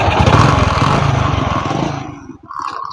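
Old motorcycle engine running close by, a loud, rough, rapid put-put that fades and cuts out near the end, then briefly returns.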